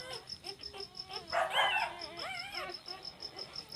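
A mother dog near her puppies gives soft, high, wavering whimpers and whines, faint and close, over a quiet steady background hum.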